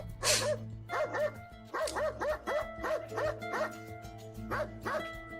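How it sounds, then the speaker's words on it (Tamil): Dog barking repeatedly in a steady series of loud, close, tonal barks with short pauses between them, a constant low hum in the background. "என்னாச்சு ஜிம்மிக்கு ஒரு காலம் சத்தம் போடாது, இன்றைக்கு சத்தம் கொடுத்துருக்கு."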